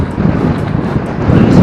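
Headwind buffets the microphone of a cyclist on the road, a loud low rumbling roar that gusts unevenly with no voices.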